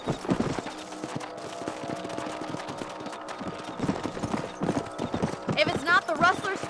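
A horse ridden across a ranch property in the video game Red Dead Redemption, its hooves clip-clopping in a steady, close rhythm, with a brief whinny-like sound near the end.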